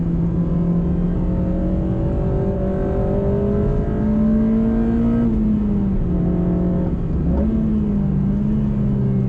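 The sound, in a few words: Honda Civic Type R FD2 Mugen RR engine revving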